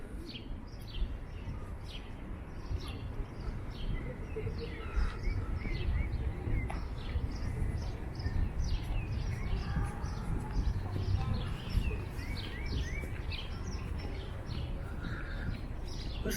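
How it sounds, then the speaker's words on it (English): Small birds chirping in a Toronto city neighbourhood near Huron Street, scattered quick tweets over low outdoor traffic rumble, fairly faint and continuous. "Listen to all those birdies chirping."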